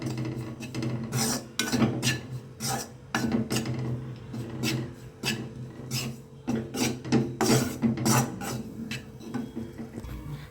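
Maida flour is roasted and continuously stirred in a pan for creamy white pasta. Close, dry, rhythmic scraping and rubbing strokes repeat quickly and evenly throughout, with no talking.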